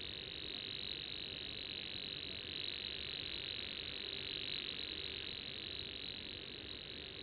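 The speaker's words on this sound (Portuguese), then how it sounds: "A filosa unicolor tem um canto pouco comum entre as aves. Imita um trinado contínuo semelhante a um inseto" A Savi's warbler in a lagoon reed bed sings its insect-like trill, a continuous high buzzing reel that holds steady and unbroken throughout, clear against a quiet, faintly noisy background.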